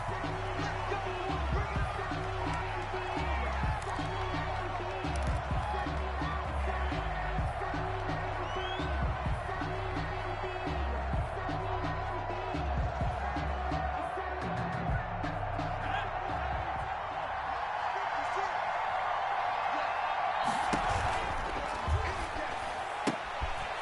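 Stadium crowd in a PS4 American football video game, Tampa Bay Buccaneers against Seattle Seahawks, a dense continuous roar of cheering with thumps and rumbles throughout, heard under a commentator's voice.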